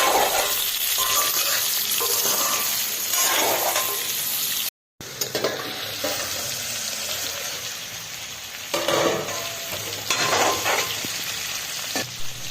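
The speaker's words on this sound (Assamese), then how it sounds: "লগাই দি ভাজি আছোঁ" Pork fries in pork fat in a pan, sizzling loudly and steadily with bursts of stirring and scraping and a short silent break partway through.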